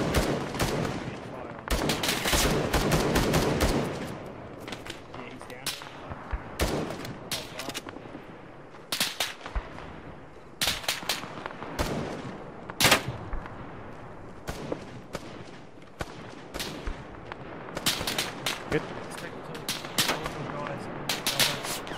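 Gunfire in a 1970s-era military video game set on Sahrani: dense bursts of rifle and machine-gun fire crack loudly and repeatedly, some shots near and others more distant, with voices talking in between.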